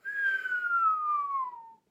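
A single continuous human whistle holds one steady tone that slowly glides downward in pitch for nearly two seconds, clear and alone, then stops.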